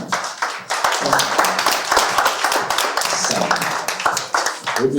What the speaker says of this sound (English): Round of applause until she reaches on stage.